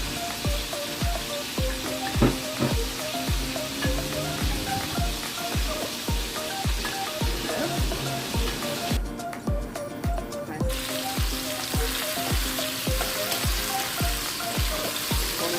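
Pineapple juice sizzles in a frying pan while sweet and sour chicken cooks, a steady hiss with a regular ticking pulse running underneath.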